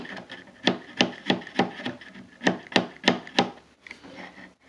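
A wooden chair leg dowel worked by hand during a chair repair, giving a series of rhythmic rasping, rubbing wood strokes about twice a second, close and fairly loud, with no talking.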